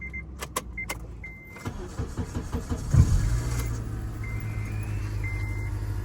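A 2006 Acura TSX that had died while driving and would not crank comes back to life: a few clicks and beeps, then the engine cranks and catches with a thump, settling into a steady idle.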